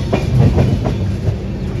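Rhythmic clickety-clack of an intercity express train's carriages rolling over rail joints, pulled by a locomotive, loud and close with a steady rumble throughout.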